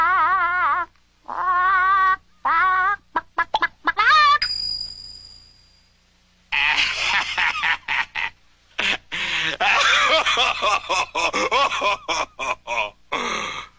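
An animated chicken gives a run of squawking, clucking calls, some drawn out and some in rapid choppy bursts, loud and close, broken by a short silence and a brief tonal sting.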